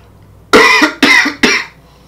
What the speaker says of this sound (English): It is my bad for the fucking cough.